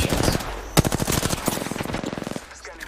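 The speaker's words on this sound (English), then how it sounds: "The enemies are shooting at me." Rapid bursts of automatic enemy gunfire in a shooter video game, loud and close with sharp repeated cracks in quick rhythmic strings, no talk over it.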